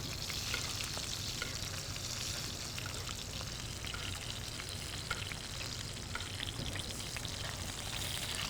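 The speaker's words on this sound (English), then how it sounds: "we're just basting it with that beef fat, yeah? Get a nice sizzle." Steady, close sizzling and spitting of a ribeye steak basted in hot beef fat, a continuous crackle with no voices.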